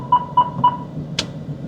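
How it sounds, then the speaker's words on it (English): Rear collision warning chime in a Proton Saga 1.5 iGT, three quick clear beeps at an even pace, followed by a brief click, over quiet cabin hum. "What you hear is rear collision warning."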